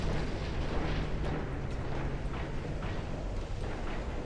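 Naval guns fire from warships during a battleship skirmish in a strategy video game, a dense rumbling barrage of overlapping booms and blasts that rolls on continuously and loudly without pause.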